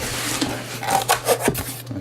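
A boxed JC Wings 1:200 Qatar Airways A350-900 model airliner being slid out of its packaging, with soft rubbing and scraping of cardboard and foam and a few small taps as a flap is lifted, close and quiet.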